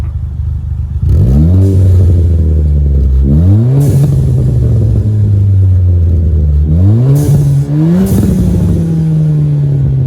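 A Ford Fiesta ST engine with its catalytic converter removed idles loudly and is revved several times, the pitch climbing and falling back with each rev.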